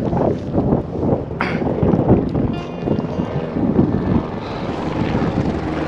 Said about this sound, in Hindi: हेलीकॉप्टर आ रहे